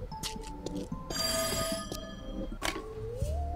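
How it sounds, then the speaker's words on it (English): A telephone rings inside the video game There is No Game, sounding as a steady electronic ringing alongside layered game sounds and tones, with no talking. "Holmes, the Russian video game is speaking to me. Pick up the phone, damn it!"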